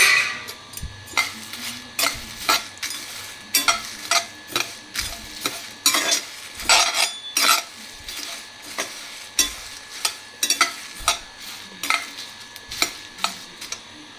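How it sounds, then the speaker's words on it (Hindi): Dried red chilies are added to a pan and stirred, with repeated scraping, rattling strokes of a utensil against the metal over a light sizzle, steady and close. "इसी में अब हम मिर्च को डाल देंगे।"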